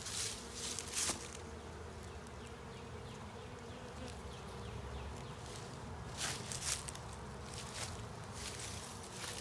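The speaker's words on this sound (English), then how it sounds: "we're packed with bees" Honey bees crowd a hive during the first inspection of the year, giving a steady, close drone of buzzing with a few brief handling bumps and louder swells.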